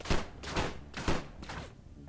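Grenade blasts in the mobile game Gangstar 5 New Orleans: four muffled, close booming thuds in quick succession, fairly quiet.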